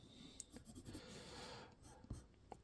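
An unsharpened pencil scratches lines on paper while drawing a character, close and quiet, with short uneven strokes and small taps.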